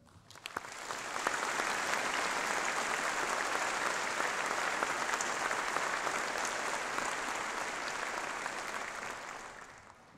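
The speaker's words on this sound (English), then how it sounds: "ask once again that you join me in applauding them" Sustained applause from a large university graduation audience for staff, rising quickly into a thick, even roar of many clapping hands that holds for several seconds before gently tapering, heard from a distance in a big hall.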